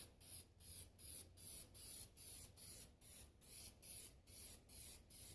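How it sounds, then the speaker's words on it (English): A spray can lays a thin coat of paint on an old combination safe in about a dozen short, even hissing bursts, rhythmic and close. "I'm going to put a quick coat, small thin coat on here"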